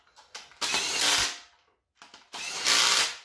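An impact wrench rattles and whirs in a few short bursts and then two longer sustained runs during assembly of a turbo 5.3 LS engine for a 4x4 Ranger build. The tool sounds close and loud, with brief pauses between runs.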